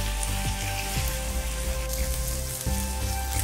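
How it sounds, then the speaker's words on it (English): Tofu pieces fry in oil in a pan with a loud, steady sizzle and crackle throughout, broken by a few soft bumps as the pieces are turned. "We need to make all the sides brown and roast it until all the sides turn golden brown"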